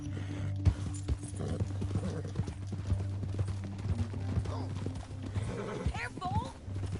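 In the Red Dead Redemption video game, horse hooves keep up a brisk, even clip-clop through a canyon while a horse whinnies near the end, with game music and talking voices layered over the riding.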